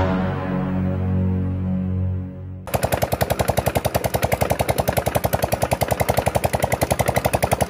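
A loud motorcycle engine knocks in a rapid, steady rhythm, starting abruptly after a quieter low hum, the hard metallic beats repeating without pause.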